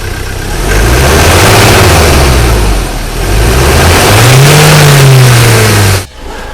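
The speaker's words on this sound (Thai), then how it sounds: "เดี๋ยวไปฟังในส่วนของ ตัวเสียงของเครื่องคันนี้กันบ้างนะครับ" A 2012 Ford Ranger Double Cab 2.2 XLT diesel pickup engine rumbles loudly up close, idling then revving up twice with rising and falling pitch before cutting off abruptly at the end.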